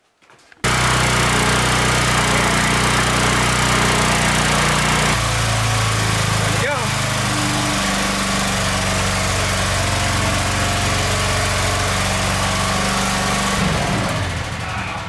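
Wood gas powered generator engine firing up after a brief quiet moment, then running loud and steady with a constant droning rumble, a small shift in pitch partway through and a slight change near the end.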